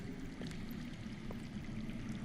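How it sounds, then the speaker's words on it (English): Underground water in a Game of Thrones video game, a steady, muffled rushing flow with faint gurgles, constant and unbroken throughout. "I hear water. From underground."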